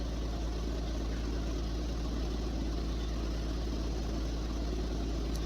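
Seat Exeo car engine running steadily, a low continuous rumble with a broad hum, even and close throughout with no revving.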